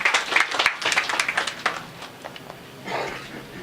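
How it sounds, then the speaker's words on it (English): Audience applause at a company facility launch event in Kenya, a burst of clapping from a gathered crowd that swells briefly and then thins out over a few seconds. "Round of applause for him."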